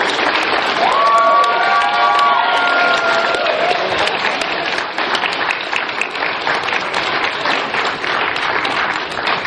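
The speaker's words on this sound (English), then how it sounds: "Give them a round of applause." Loud, sustained applause from a convention crowd greeting guests at the Animaritime 2017 closing ceremonies, mixed with cheering and scattered shouts, with a brief sung or held vocal tone near the start.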